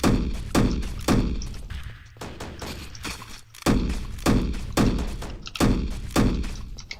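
About ten sharp, booming six-shooter gunshots from the video game Pilgrammed fire in quick, uneven bursts, each followed by a short decaying echo.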